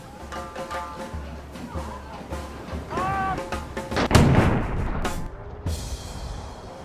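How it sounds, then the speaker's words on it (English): An artillery gun at Fort Scratchley fires once, its single loud boom bursting out midway through the clip over a background of murmuring voices and crowd noise. "when the gun's going to fire, the lanyard's pulled, the tube goes off, ignites the cartridge in the back, and the big bang comes out the front"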